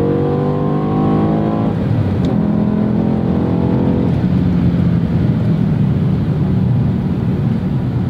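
A 2007 BMW M5 E60 with its V10 engine accelerates hard, the revs climbing in rising sweeps, then dropping at a gear change and climbing again. The note is loud and steady and runs alone with no talk.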